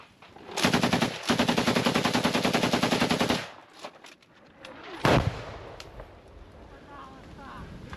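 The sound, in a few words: PKM machine gun fire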